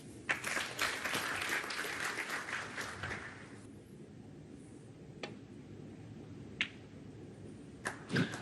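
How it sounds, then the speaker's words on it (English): Snooker spectators at a professional final in Saudi Arabia break into a short patter of polite applause that dies out after a few seconds, leaving a quiet hall with a couple of isolated sharp clicks and claps. "starting to applaud."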